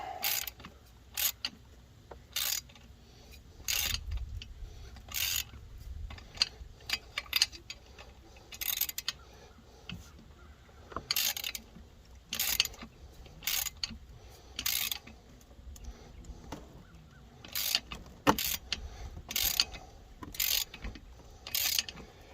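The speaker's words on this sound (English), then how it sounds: "roughly holding the ratchet with my thumb in the position where a T-handle would be" A hand ratchet turns the muffler bolts on an Echo CS-590 chainsaw, producing short clicking bursts in an irregular stop-start rhythm, close and alone.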